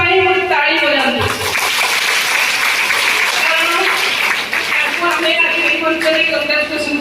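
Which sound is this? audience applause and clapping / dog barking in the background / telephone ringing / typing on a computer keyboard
audience applause and clapping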